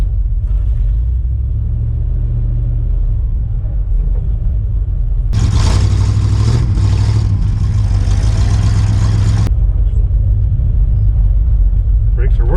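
An International 4x4 truck engine runs on a road test, a steady low rumble throughout that swells louder and harsher for a few seconds midway before settling back; no talk is heard.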